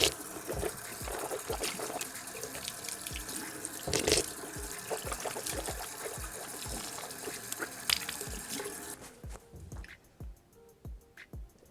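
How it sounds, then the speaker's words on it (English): Running water from a bathroom sink tap during mouth rinsing and spitting, a steady close splashing stream that stops near the end, leaving scattered drips and light knocks. "rinse and spit it back out."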